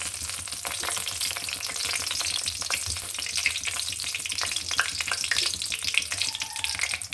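Dried red chillies and a bay leaf frying in hot oil in a pan, with a continuous close crackling sizzle and occasional stirring scrapes and no voices.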